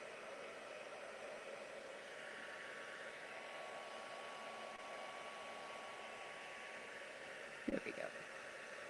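A heat embossing tool blows hot air at close range onto a stamped Halloween card, a steady even whoosh running without a break, with a brief clatter of handling near the end.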